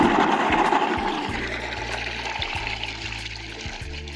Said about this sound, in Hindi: जगह जगह पे आपको पानी के चश्मे नज़र आ रहे होंगे, आर्टिफिशियल